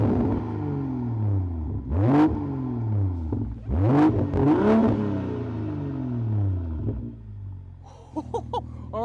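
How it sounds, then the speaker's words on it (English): A BMW M240i fitted with a Remus exhaust fires up and settles into a deep idle, then gets two sharp revs that climb and fall back, followed by a few quick blips near the end. "Start it up and give it a rev."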